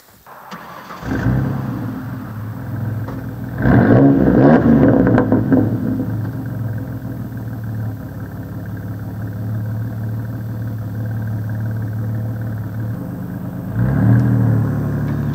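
A car's engine revs and pulls hard as it accelerates down a rural road near Blountsville, Alabama, a steady mid-pitched drone that climbs and holds, with a louder surge near the start and another near the end.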